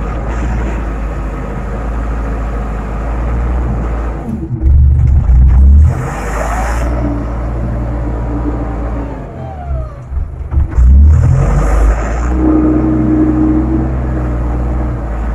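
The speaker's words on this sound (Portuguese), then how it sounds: "Passa muito carro nessa rua aí." Cars pass along a street beside a work site with a Randon RK 406B backhoe, two loud, close vehicle rumbles swelling and fading over a steady machine drone.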